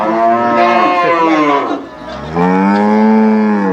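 Cattle at a livestock market lowing loudly and close: a long harmonic moo, a brief dip, then a second deep drawn-out moo, standing alone without talk.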